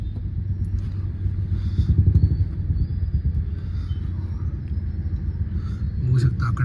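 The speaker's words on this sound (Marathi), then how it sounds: "बघू शकता अख्खा ट्रॅफिक आहे" Congested road traffic with motorcycles and cars: a steady engine rumble with passing bikes swelling nearby, while someone talks over the noise.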